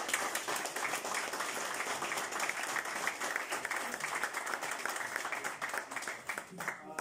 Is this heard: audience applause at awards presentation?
yes